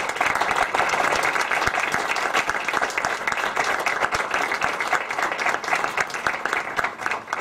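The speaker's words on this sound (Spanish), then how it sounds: "un fuerte aplauso para él" A studio audience gives a guest dense, sustained applause after an event about an electric Dakar Rally car, with many hands clapping loud and close throughout and no voices on top.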